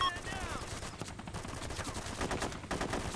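Video game gunfire in Arma II during an infantry firefight, a dense continuous spread of crackling shots and bursts at fairly steady loudness for several seconds.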